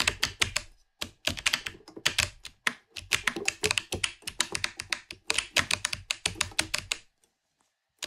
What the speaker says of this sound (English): digital warp, sampled computer keyboard.